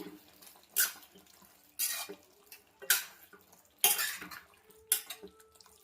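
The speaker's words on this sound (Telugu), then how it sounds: "ఒకసారి మొత్తం కలుపుకుందాము" A spoon stirs brinjal and tomato curry in a pan, making five separate scraping clatters against the metal at a slow, uneven pace, with quiet pauses between strokes and no talking.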